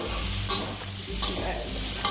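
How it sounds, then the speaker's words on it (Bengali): Green banana and pointed gourd fry in a pan with a steady sizzle, as a spatula scrapes and stirs through them, giving a few sharp clinks along the way. "কাঁচা কলার পটলটা ভাজা হয়ে গিয়েছে"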